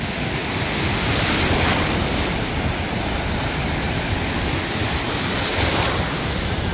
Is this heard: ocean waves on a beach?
yes